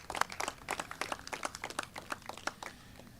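Light, sparse applause from a small audience at a groundbreaking ceremony for a student services and administration building, distinct claps in a loose rhythm, fairly faint and outdoors-sounding.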